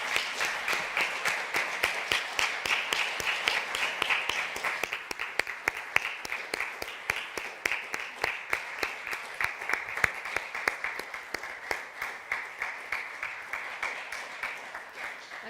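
Steady applause from a conference audience at a Hamburg Pride human rights event, dense clapping sustained throughout at moderate level with no break.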